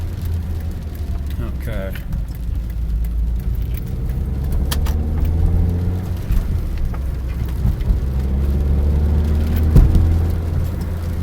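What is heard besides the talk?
car with manual transmission driving off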